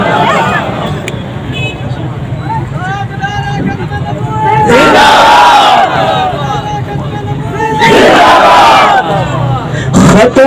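A large religious gathering chants slogans in unison, loud surging roars of the crowd rising twice over a background of amplified voice and babble.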